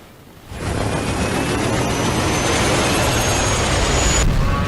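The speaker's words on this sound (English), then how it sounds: "the PS4 Pro sounds like a wounded animal in a crashing helicopter when it turns on" A PlayStation 4 Pro console's cooling fan starts at power-on and quickly swells into a loud, steady roar like a jet, holding at full strength for several seconds.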